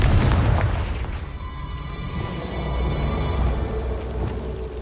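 A Confringo spell in the video game Hogwarts Legacy detonates as a deep, loud boom, its low rumble swelling at once and then settling into a lingering, echoing roar.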